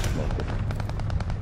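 Rapid automatic gunfire in Call of Duty Vanguard from a new gun, a dense fast burst of shots that fills the whole moment over low game rumble.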